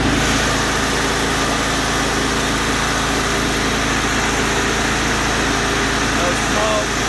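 The engine of a 60-inch Exmark Lazer Z S-Series commercial zero-turn riding mower runs loud and steady up close, with an even, unbroken drone.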